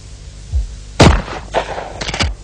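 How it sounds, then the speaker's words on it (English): Benelli shotgun fired in quick succession, a few sharp, loud booming reports within about two seconds. "that's how a Benelli shotgun shoots and aims by itself"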